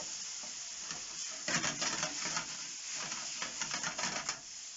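Steak pieces for a tagliata with garlic, oil and chili sizzle steadily in a hot pan, a dense close crackle that swells with bursts of stirring and shifting around the midpoint, continuous without talk.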